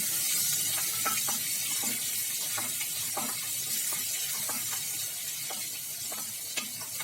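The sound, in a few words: green chillies crackling in hot oil with cumin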